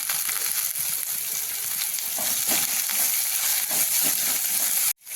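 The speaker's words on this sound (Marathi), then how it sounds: "थोडी शेंगदाणे आणि आता मी छान परतून घेऊ आता टाकू कढीपत्ता" Peanuts and curry leaves fry in a pan over low heat with tomato, making a loud, dense continuous sizzle and crackle with stirring noises, cutting off abruptly near the end.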